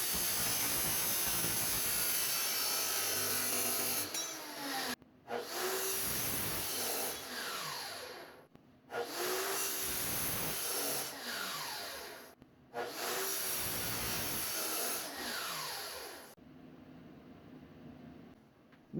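A power saw cuts pieces of 1/8 inch steel angle iron in the shop, a loud harsh grinding whine in four separate bursts with short pauses between them, with no talking.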